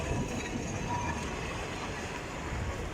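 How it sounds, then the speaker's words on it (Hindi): An old historic tram runs through a market street in Istanbul, a steady rumbling roll of wheels on rails with faint clatter, continuous and fairly near. "वाओ, बहुत ही पुराने ज़माने की ट्रैम।"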